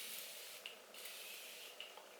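Urban Decay makeup setting spray mists out in a soft, faint, steady hiss, close by and quiet, with a couple of tiny clicks, and no talking.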